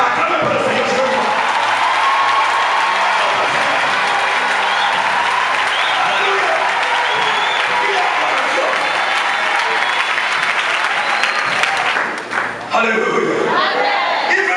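A church congregation at a worship gathering applauds and cheers in a sustained, dense wave of clapping for most of the stretch, loud and close, with voices mixed in before it briefly thins near the end.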